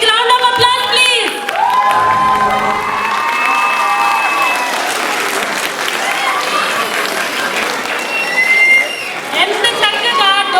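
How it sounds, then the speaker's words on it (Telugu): Audience at a Ugadi 2024 celebration bursts into sustained applause and cheering, loud and close, with reedy festive music and scattered voices running over the clapping. "big round of applause please"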